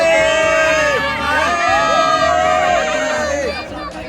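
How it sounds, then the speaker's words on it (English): A large crowd of locals gathers around a landed hot-air balloon, a dense hubbub of many voices with shouts and excited calls, loud and close, continuing steadily throughout. "When you land, you frequently attract a large crowd of locals."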